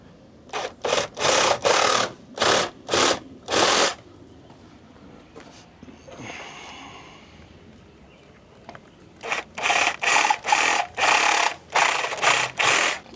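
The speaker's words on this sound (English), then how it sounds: "Now my favorite part, cutting pipes." Pool sand filter pipes being sawn by hand, with two bursts of loud, rapid back-and-forth strokes separated by a quieter pause. No one speaks.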